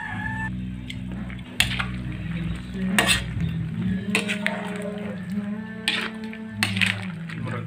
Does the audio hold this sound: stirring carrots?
yes